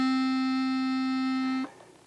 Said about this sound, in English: A middle reed would be called a clarinet reed, and it sounds like this.